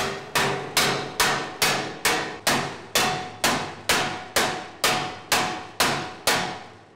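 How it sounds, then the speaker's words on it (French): A small hammer strikes in a steady rhythm, about fifteen sharp, ringing blows spread evenly over several seconds, loud and close, with no talking. "Avec le petit marteau, là, ça va jamais le faire"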